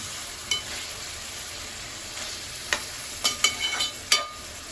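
Mutton fries in oil in a pan while being stirred, giving a low, steady sizzle broken by scattered scrapes and clinks of the spoon, close and fairly quiet.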